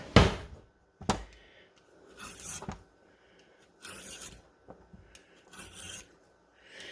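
Raw beets are scraped with a peeler in short, rasping strokes, several separate bursts with brief pauses between, close and crisp in an otherwise quiet kitchen.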